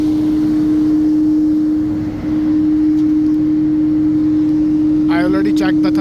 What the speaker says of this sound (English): the exhaust fan, this one, making a very loud noise.